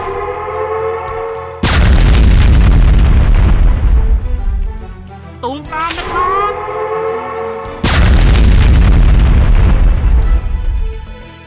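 Two huge booming skill explosions from the online game 12 Tails Online, several seconds apart, with a sharp swooping effect between them, loud and heavily processed.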